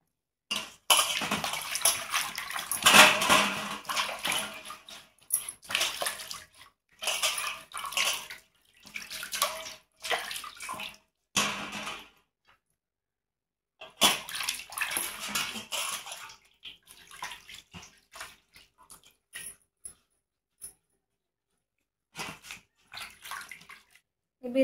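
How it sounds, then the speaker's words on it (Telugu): Ridge gourds being washed by hand in water, with intermittent splashing, sloshing and knocking in close bursts separated by short quiet pauses. "బీరకాయలు అయితే కడుక్కున్నాం కదా"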